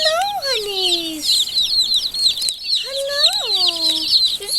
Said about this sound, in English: We got our baby chicks, so I'm going to open the lid.